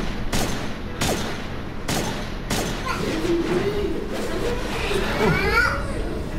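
Gunfire in Borderlands: The Pre-Sequel, four loud, evenly spaced shots followed by chirpy voices and chatter.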